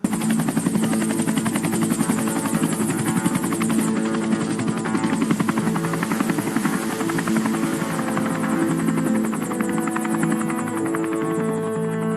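Four low-flying Mi-17 military helicopters crossing toward Pakistan-administered Kashmir at night, heard as a dense, steady rotor thrum and turbine whine that stays loud and unbroken throughout, with no voices.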